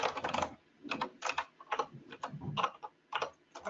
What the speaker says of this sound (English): Typing mad.